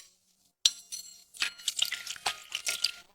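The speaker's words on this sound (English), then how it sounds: "To solidify it faster, Gangzi sprinkled water to cool it down." Water sprinkled onto hot freshly cast iron to cool it: a sudden sharp splash, then a crackling hiss and spatter of bursts, close and fairly loud.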